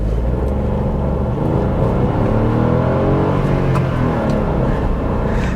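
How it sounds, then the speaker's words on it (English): A turbocharged three-cylinder engine in a 2023 Kia Picanto GT manual hums and revs steadily, its raspy tone rising and falling in pitch, loud and close with no talking over it. "I love 3-cylinder engines"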